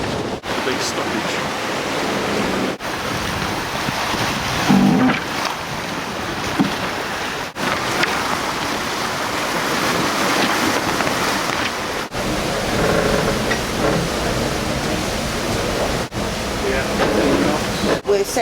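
Racing yacht sailing at 15 to 16 knots through waves off Falmouth to Fowey, a constant loud rush of water and wind noise with rhythmic thumps as the hull hits the swell, and some talk heard at times.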